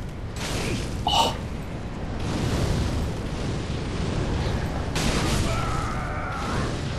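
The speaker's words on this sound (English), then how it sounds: "So that was two fireballs and a hit." Fireball explosions from the video game Dark Souls, set in Anor Londo: a rumbling, roaring wash of blasts with a sharp burst near the start and another surge later, loud and sustained over a continuous game background.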